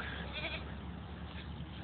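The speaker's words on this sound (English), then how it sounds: "this goat is evidently in a bind" A goat with its horns stuck in a fence bleats close by over a dense, noisy outdoor background.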